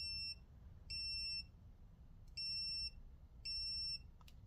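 Short, high, shrill electronic beeps from a small-dog training e-collar remote, repeating in bursts of about half a second with pauses between, over a low background hum.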